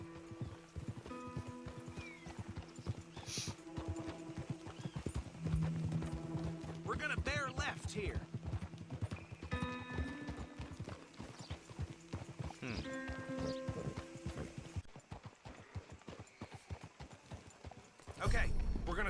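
Horse hooves clip-clopping along a road in the video game Red Dead Redemption 2, a steady trotting rhythm under voices talking, with a brief snort or whinny partway through.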